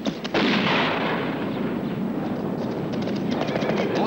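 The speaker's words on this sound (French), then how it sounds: "Vassili, fais concentrer le tir des canons sur le campement russe." Heavy, continuous roar of booming cannon fire and explosions, a dense battle barrage from a 1968 film aimed at a Russian camp, with a few sharper cracks, loud throughout.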